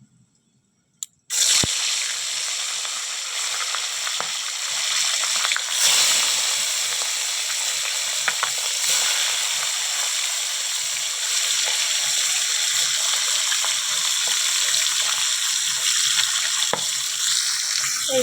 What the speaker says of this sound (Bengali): তেল গরম হয়ে গেছে, এবারে মাছগুলো ভাজতে দেব বন্ধুরা।